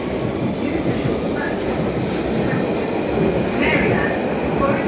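A train rumbles through Stratford station in London, a steady broadband roar with faint rail clatter and squeal holding at an even level throughout.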